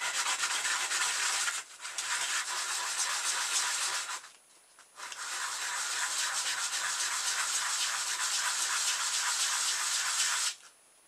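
Sandpaper rubs steadily against a small wheel for a balloon- or rubber-band-powered model car, a close, continuous scratchy hiss in three long bursts broken by brief pauses.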